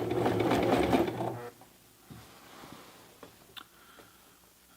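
A Toyota FSG325 sewing machine stitches through a thick seam in dense home decor fabric: a loud, labored whir for just over a second, then quiet mechanical clicks and small knocks.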